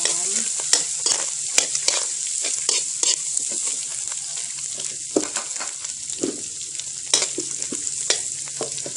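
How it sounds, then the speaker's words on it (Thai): Onion and cooked pork stir-fried in a hot pan for Thai country-style fried rice with fresh Chinese kale, a steady loud sizzle broken by frequent sharp scrapes and clatters of the spatula. "หอมหัวใหญ่ลงไปผัดให้มันหอม"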